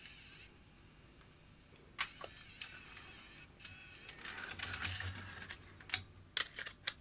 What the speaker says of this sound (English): Okay, head cleaner tape. Run that for about 10 seconds.